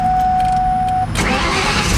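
A supercharged Whipple Cobra's engine catches and settles into a rough, throbbing idle, loud and close, after a steady tone cuts out partway through.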